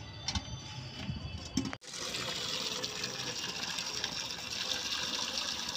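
Water gushes steadily from a tap into a bucket, a continuous rushing splash that starts abruptly after a brief stretch of household noise and a few knocks.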